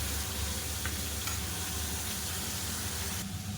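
Goat meat and potatoes stirred in a hot pan, a steady close sizzle and frying crackle running unbroken throughout with faint scraping of the stirring.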